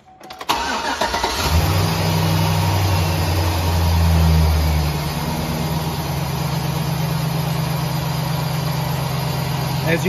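A car engine cranks and starts, then settles into a steady idle close by, with a slightly higher hum in the first seconds before dropping to an even rumble.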